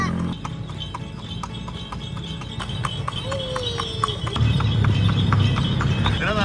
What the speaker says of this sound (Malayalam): കുതിര നല്ല അടിപൊളിയായിട്ട് ശബ്ദം ഉണ്ടാക്കുന്നുണ്ട്